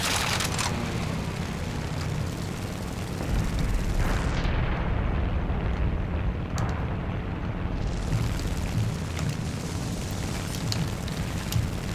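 Heavy cannon fire and explosions in War Thunder, a Japanese-side battle: a continuous loud roar of booms and blasts rolling without pause throughout, dense and close.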